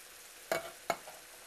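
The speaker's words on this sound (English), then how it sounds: "Stir that into that celery and onion mixture." Canned diced tomatoes get stirred into sautéed celery and onion for a shrimp and tomato chowder, two quick wet scraping strokes close by over a faint sizzle.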